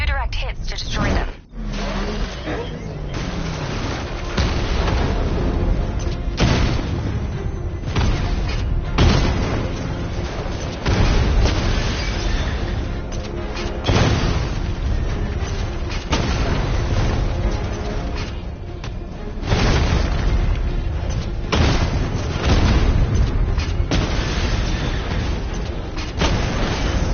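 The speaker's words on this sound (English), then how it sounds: "Your 60mm cannon will penetrate these heavily armored units, but it'll take a few direct hits to destroy them." Heavy 60mm tank cannon fire and explosions in a Batman video game, a near-continuous barrage of loud booms and blasts with brief pauses between salvos, mixed with game sound and talk.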